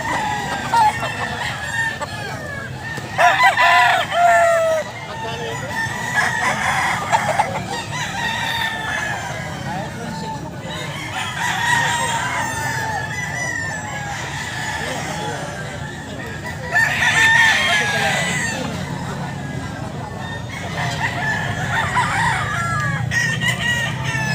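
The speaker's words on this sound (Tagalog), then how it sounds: "Tatangkad ng manok ni Sir PJ." Sweater-breed roosters crow repeatedly at a market, several long calls rising over a busy background, with clucking and people talking in between.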